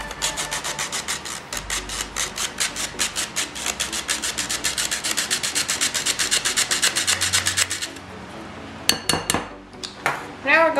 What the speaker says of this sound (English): we can sift our powdered sugar to make the glaze